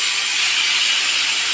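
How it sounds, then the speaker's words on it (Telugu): A pot of sambar with vegetables boils hard and froths up, giving a loud, steady hiss that stays close and unbroken throughout. "చూడండి సాంబార్ అంతా అయితే ఎలా పొంగుతుందో"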